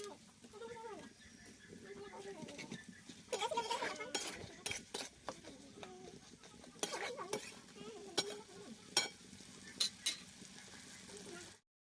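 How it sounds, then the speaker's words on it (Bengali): Spice paste with dried fenugreek leaves (kasuri methi) stirred and fried in a pan over a wood-fired stove for egg curry, giving a soft, steady sizzle broken by repeated clinks and scrapes of a spoon against the metal pan. A voice talks over it at times. "আমি আবারও মশলাটাকে ভালো করে কষাতে থাকবো"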